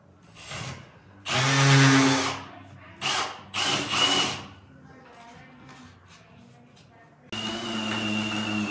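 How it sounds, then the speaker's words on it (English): A heavy-duty hammer drill whines in bursts as it bores a large hole through wood, loud and close, with pauses between runs and a steady final stretch. "You got heavy duty hammer drill here"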